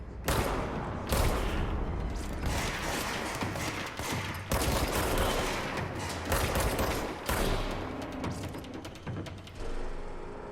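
Rapid bursts of gunfire from the video game Control, with dense repeated shots and sharp cracks filling the clip at close range, loud throughout.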